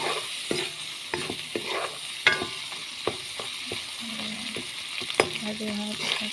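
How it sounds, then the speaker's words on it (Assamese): Dried fish frying in a pan, a steady sizzle broken by clinks and scrapes of stirring, close and moderately loud with no talking. "শুকান মাছখিনি অলপ গোন্ধটো যাবৰ কাৰণে ভালদৰে ভাজি দিওঁ"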